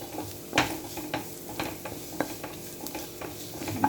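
Onions and curry leaves sauté in a pan with a soft, low sizzle, broken by several sharp scrapes and knocks of a stirring spoon against the pan.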